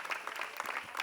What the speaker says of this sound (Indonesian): Tuh, tepuk tangan dong semuanya.